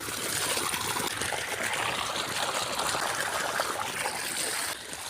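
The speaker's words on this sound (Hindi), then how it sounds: "और ये है पानी चालू" Irrigation water runs steadily into a rice paddy field, a continuous close trickling and splashing rush that holds at an even loudness throughout.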